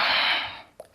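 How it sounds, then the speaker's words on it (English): A strong breathy exhale during a hip-release exercise, loud and close, fading over half a second, followed by a short soft intake and the start of another breath. "Breathe in and exhale."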